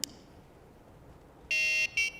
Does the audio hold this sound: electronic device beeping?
yes